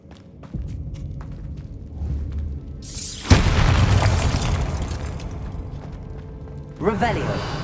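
A Bombarda spell detonates in Hogwarts Legacy with a sudden loud boom, then a long rumbling wash of debris and crackle that trails off, followed by a lighter burst near the end.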